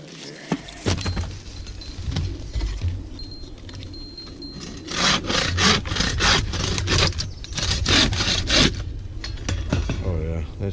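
A blade scrapes shavings from a piece of cedar fatwood in a run of rough, rasping strokes, quiet at first and then a dense, rhythmic series of close, loud scrapes.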